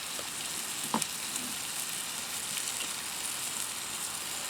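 A New York strip steak searing on a hot cast iron grill grate, a steady close sizzle with a couple of brief knocks as the meat is set down.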